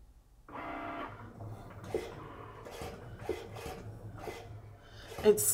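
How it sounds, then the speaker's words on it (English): A Cricut cutting machine scores and writes on a card, giving a quiet mechanical hum with a short whirring burst early, then faint scratchy strokes and small clicks as the carriage moves, fairly close. "if you've never seen the machine write, here you go, you get to see it go."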